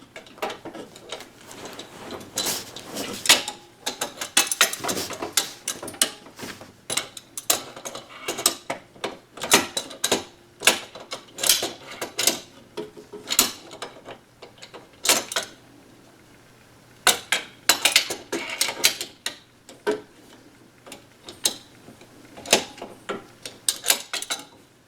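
A wrench on a Schwinn Racer bicycle part, levered with a wooden dowel pushed through its end, gives off irregular metallic clicks, ticks and creaks in scattered bursts with quiet gaps between them.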